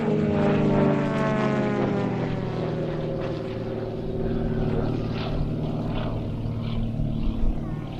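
A large Krill-built model airplane, just under 3 metres long with a wingspan just over 3 metres, drones overhead with a loud, steady propeller buzz whose pitch slowly falls as it passes, under faint background talk.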